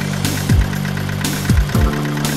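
A car engine with a rough idle from dirty or stuck EGR valves and carbonized intake and exhaust parts runs loud and close, with a steady hum broken by periodic stumbling dips.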